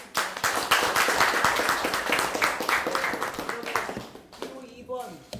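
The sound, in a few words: applause for candidate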